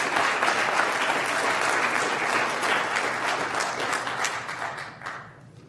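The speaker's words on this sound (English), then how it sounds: "let's give them a round of applause." Audience at a college governing board meeting applauds students being honored, a steady dense round of clapping that holds for several seconds before tapering off at the end.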